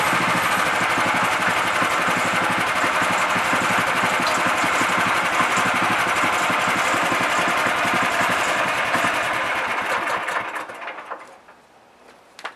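A sawmill runs steadily, cutting a short log into 3x3 lumber with a loud continuous engine drone and vibrating mechanical rattle, then winds down and fades near the end.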